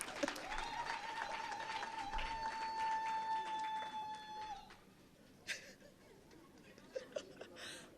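An audience at the Kabafest 2019 welcome ceremony in Nigeria applauds first-time guests. Dense clapping runs under a sustained whistling tone for several seconds, then thins to scattered claps.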